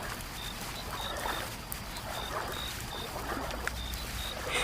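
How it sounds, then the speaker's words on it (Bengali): Small rowed boat rocking on rainy, windy water in a cartoon, faint steady splashing and lapping with soft creaks, continuous and fairly quiet. "বাতাসের ধাক্কায় ছোট্ট নৌকাটা এখনো দুলছিল, আর সেলিম খুব সাবধানে নৌকাটা চালাচ্ছিল"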